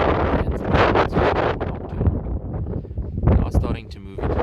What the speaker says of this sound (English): It is a bit of a windy morning, and cats, as most animals, don't like wind too much.